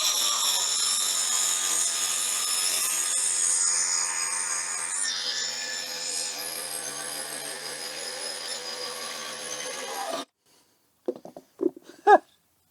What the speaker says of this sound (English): What happens if you accidentally cut into a nail when you're sawing through a piece